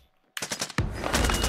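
Video game gunfire starts after a brief quiet moment with a rapid burst of close automatic shots, then turns into a dense, loud stream of fire.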